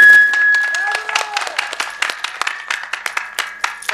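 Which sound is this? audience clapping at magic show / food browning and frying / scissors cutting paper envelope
audience clapping at magic show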